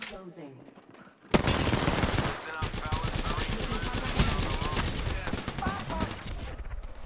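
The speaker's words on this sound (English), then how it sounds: "Opening fire." Sustained automatic gunfire in the battle royale game Apex Legends erupts suddenly after a quiet lead-in, loud and close, with rapid continuous bursts running to the end over game effects.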